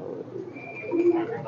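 A racing pigeon coos close by, a short low murmuring call rising near the end of the moment, with faint background voices and room noise around it.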